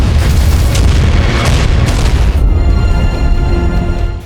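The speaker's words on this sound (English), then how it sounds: "a violent explosion immediately occurred inside the elevator shaft." A car's fuel tank ignites and explodes inside an elevator shaft, a loud, sustained booming roar with heavy low rumble that persists for several seconds before settling into a steady, ringing drone.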